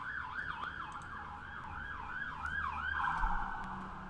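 Emergency vehicle siren wailing outside in a steady rising-and-falling pattern, moderately distant and building slightly louder toward the end, heard alone without talk.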